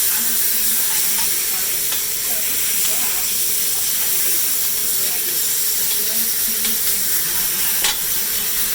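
Steak searing in butter gives off a steady, loud hiss and sizzle close by, with faint scattered crackles throughout.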